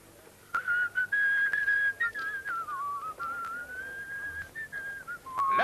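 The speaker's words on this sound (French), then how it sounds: "Ben, je siffle, on ne devait pas les troubler" A person whistles a long, wavering melodic tune to distract a bocce player mid-game, loud and close, running steadily for several seconds with brief pauses and no talking.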